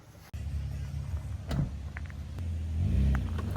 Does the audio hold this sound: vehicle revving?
yes